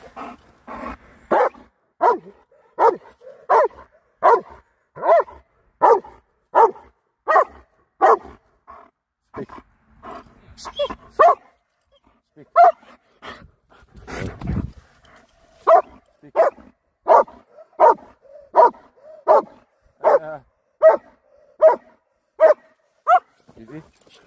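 A German Shepherd barks loudly and close in long rhythmic series of evenly spaced woofs outdoors in a park, with a short pause and a few scattered yips midway before the steady barking resumes.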